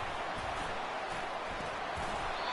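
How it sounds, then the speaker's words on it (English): Stadium crowd at a college football game roars in a continuous, dense wash of cheering and noise, steady and loud throughout with no break. "It's early, but this crowd is fired up. Listen to this noise here."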